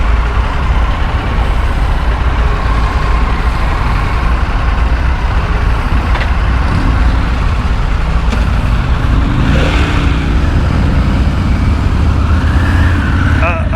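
A 2023 Harley-Davidson Pan America Special motorcycle riding in road traffic, a loud continuous engine drone and wind rush with passing vehicles throughout.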